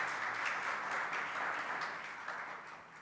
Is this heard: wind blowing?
no